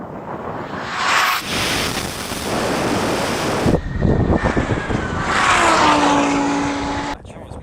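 A Lamborghini racing electric hypercar accelerates hard, with rushing wind roar and rising electric whine under strong buffeting, a brief dip, then a climbing tonal sweep before it cuts off.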